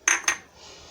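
Two quick metallic clinks as a cake bowl topped with tutti frutti is set onto a stand inside a preheated pressure cooker, with a faint ringing tail afterward and no voices.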